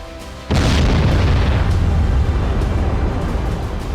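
A large explosion in Kherson during wartime: one sudden heavy boom that gives way to a long, loud, low rumbling roar that barely fades over the following seconds.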